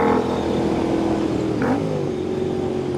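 A Royal Enfield INT 650 motorcycle engine fitted with a Revelry Racing intake and S&S cam, revving loudly and close by, its steady engine roar rising briefly in pitch partway through before settling back.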